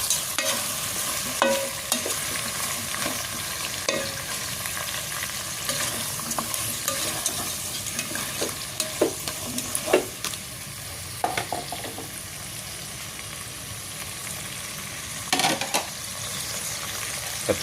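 Ingredients for shrimp sinigang being stirred in a pot, steady scraping and sizzling from frying with scattered clinks of the utensil against the pot, close and continuous with no talk.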